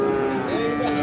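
A bull calf at a busy cattle market in Raniganj gives a brief low moo that blends into the steady crowd noise around it.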